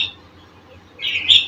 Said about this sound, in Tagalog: Naririnig niyo yung mga ano ng ibon.